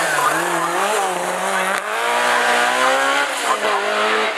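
A race car at the Wolsfeld hill climb, its engine note sweeping up and down through gear changes with rising revs and a tire squeal, loud and close, the sustained howl continuing for several seconds.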